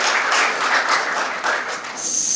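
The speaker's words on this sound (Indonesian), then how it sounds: "Tepuk tangan ke Bapak Ade Firman." A talk show audience applauds a guest called to the stage, a dense wash of steady clapping from a crowd lasting a couple of seconds, fairly loud and without speech.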